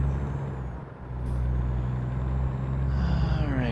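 Truck air brakes in American Truck Simulator, a loud engine drone with a sharp hiss of air releasing, then a rising whine as the rig sits running close by.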